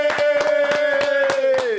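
Audience clapping for a guest on a French-language television show, regular sharp claps in rhythm under a sustained sung or held musical tone, loud and close.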